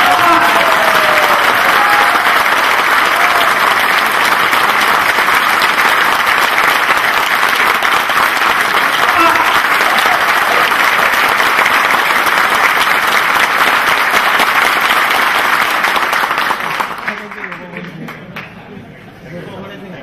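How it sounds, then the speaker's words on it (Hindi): Loud, sustained applause from a large convention crowd in Nashik, dense clapping mixed with cheering voices that holds steady and then fades away near the end. "नासिक में गंगापुर तक तालियों की आवाज सुनाई देनी चाहिए"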